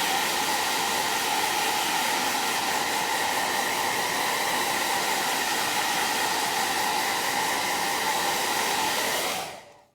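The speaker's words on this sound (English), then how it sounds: "We're gonna hit it with the blow dryer" A blow dryer dries paint on a stencilled pumpkin, a steady loud whooshing roar that runs without a break for nearly ten seconds, then cuts off at the end.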